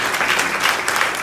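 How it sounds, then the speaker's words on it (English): Applause rings out from a church congregation after a citation honoring a state representative is read, a short, steady burst of dense clapping filling the room. "Let's give a round of applause for that."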